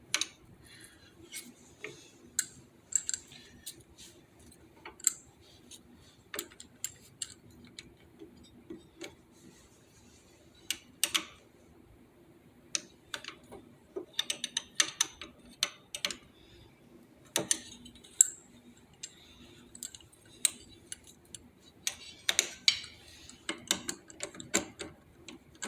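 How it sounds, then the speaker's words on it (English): Metallic ratcheting clicks from a wrench loosening the jam nut on a Harley-Davidson clutch cable during primary installation, irregular ticking bursts with short pauses, close and fairly quiet. "So you got to loosen the jam nut."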